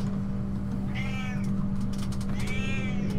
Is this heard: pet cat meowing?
yes